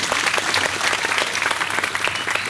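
Brief, lively applause from a congregation at a church Christmas service, dense clapping filling the short stretch at moderate volume with no speech over it.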